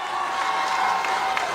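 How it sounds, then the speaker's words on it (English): A high school boys basketball crowd at Elizabeth Forward cheers as a quarter winds down, a loud burst of voices and shouts that stays close and lively for the whole moment. "Got a 10 seconds left here in the quarter as the crowd comes alive"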